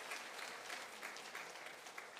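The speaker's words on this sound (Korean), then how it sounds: "박수로 환영해 주십시오." A Korean church congregation claps in welcome, a soft, steady patter of applause heard from some distance, with no talk over it.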